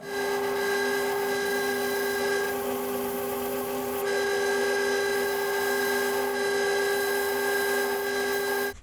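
A wooden parquet bowl is sanded with 120 grit sandpaper, a steady loud scraping rasp layered over a constant tonal machine hum, uninterrupted and without voices.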